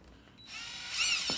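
A drill boring into metal at slow speed whirs up from quiet into a steady, fairly high mechanical whine, brief and close, with a slight rise near the end.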